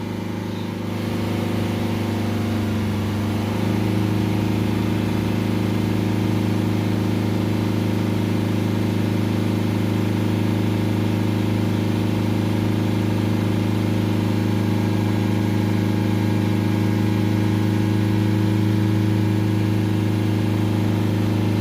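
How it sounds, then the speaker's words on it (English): A Mercedes E-Class 2.1 diesel engine with a differential pressure sensor fault, held at a steady raised speed around 3000 RPM, producing a constant loud drone that climbs slightly early on and then holds evenly, with no talking. "Let's make sure the revs are up high. Sort of 3000 RPM"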